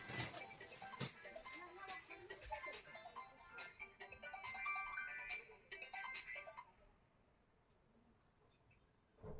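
A phone ringtone goes off during a Hindi grammar lesson, a busy repeating electronic melody playing for several seconds and then stopping, leaving quiet room tone.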